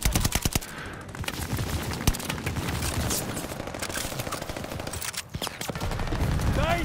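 Dense gunfire and machine-gun bursts from a Call of Duty: Vanguard Hardpoint match on the Tuscan map, with continuous rapid shots and sharp individual cracks layered loudly throughout, and no talking.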